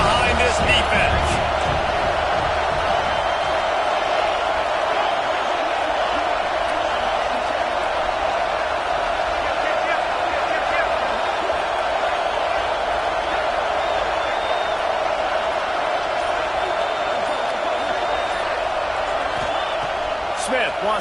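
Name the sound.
football stadium crowd cheering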